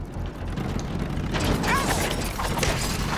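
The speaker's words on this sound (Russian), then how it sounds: "Открываем ворота." A mechanical gate grinds open in the motorcycle action game Steel Rats, a low rumbling, ratcheting mechanism with creaks rising slightly in loudness under steady game ambience.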